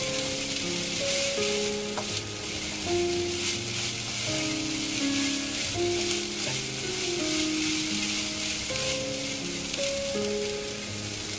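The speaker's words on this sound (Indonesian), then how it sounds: "Dan diaduk-aduk lagi sampai merata." A sautéed mixture seasoned with salt is stirred in a hot pan for sushi made from glutinous rice, with a steady loud sizzle and faint scraping of the spoon throughout, no voices.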